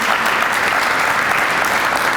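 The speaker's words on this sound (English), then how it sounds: "Please give them a round of applause for all their work in the city." Audience applause fills a hall at a city's State of the City address, a steady, dense clapping held at full strength throughout with no voices breaking through.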